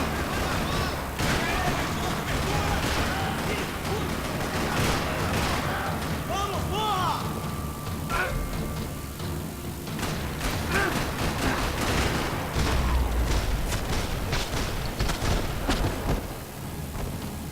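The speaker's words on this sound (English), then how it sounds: "Another parking lot rattling with gunfire." Gunfire in a parking lot shootout from the video game Max Payne 3, repeated sharp shots and bursts scattered through a dense, loud mix of game sound and voices.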